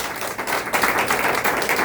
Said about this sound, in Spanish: Démosle un fuerte aplauso a Hashem.